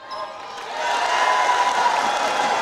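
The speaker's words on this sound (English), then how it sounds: "Lots of cheering going on." Crowd cheering at a netball match between Queensland and Tasmania in a mixed reserve championship game on a show court; an indoor roar that swells after a moment and then holds steady and loud.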